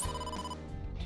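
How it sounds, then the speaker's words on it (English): An in-game telephone rings in AI: The Somnium Files, a steady electronic bell-like trill that carries clearly and unbroken through the whole short moment, with no talking over it. "answer your damn phone"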